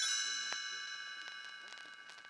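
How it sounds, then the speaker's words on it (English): A bright set of chimes rings once and its shimmering tones hang in the air, slowly fading, with a few faint clicks underneath. "You will know it is time to turn the page when you hear the chimes ring like this"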